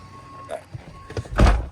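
A pickup truck is unlocked with a short electronic beep, then a few soft clicks of the latch, ending in a loud thump as the door opens.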